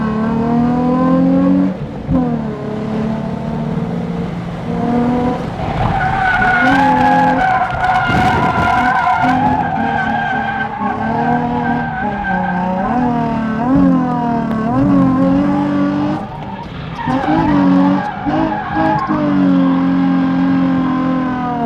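A completely stock Nissan 350Z drifts with its engine revving hard and its tires skidding and squealing in long, wavering sweeps. The car stays close and loud, with only brief dips between slides.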